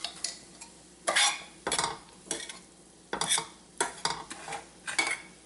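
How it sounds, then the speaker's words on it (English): A utensil stirs boiled vegetable puff filling in a pan, making repeated scraping, clinking strokes in an irregular rhythm, close and fairly quiet, with no talking. "Now give it again a good mix, and of course salt."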